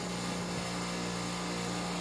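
A vintage 10,000 BTU Whirlpool window air conditioner runs close by with its compressor on, giving a steady loud hum and a whooshing fan drone.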